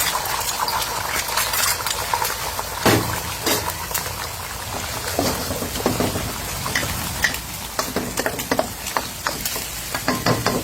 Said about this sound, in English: And I've got some eggs, 3 of fresh eggs. Gonna scramble.